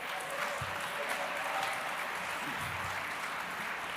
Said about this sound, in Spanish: Un fuerte aplauso para todos los jóvenes.